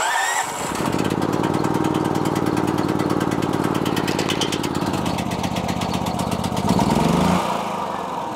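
A Generac XT8000E portable generator cranks and catches, then runs at a steady, loud, close drone with a dense engine rumble that shifts pitch briefly near the end.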